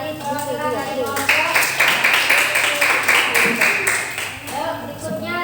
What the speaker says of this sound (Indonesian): Beri tepuk tangan buat Naila dari perwakilan dari kelompok.